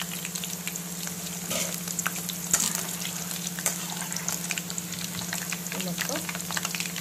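Garlic pieces fry steadily in a pan of hot oil for chutney, a continuous close crackling sizzle with scattered pops and occasional stirring scrapes throughout.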